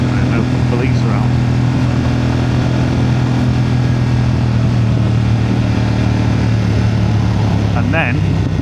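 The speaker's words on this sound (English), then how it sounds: "so can I listen to the new exhaust for this" A car engine with a new exhaust drones loud and steady in a tunnel, a deep, booming exhaust rumble reverberating throughout, close and unbroken.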